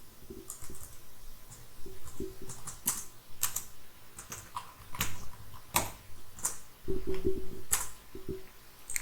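Typing on a computer keyboard while entering a company name into an MS Excel sheet: irregular bursts of close, crisp key clicks with short pauses, no speech.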